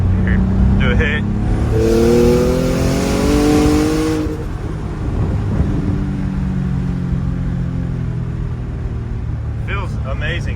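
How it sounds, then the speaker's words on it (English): A turbocharged BMW ZHP accelerates at wide open throttle, its engine note climbing loudly through the revs for several seconds before easing off into a lower rumble, with a few faint chirps or hisses near the end. "I can finally go wide open with this car."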